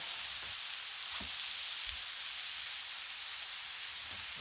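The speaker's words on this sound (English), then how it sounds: "Sometimes you just gotta cook up a burger" Burgers sizzle on a Blackstone griddle, a steady, faint hiss of frying meat that carries on evenly with an occasional soft tap and no talking.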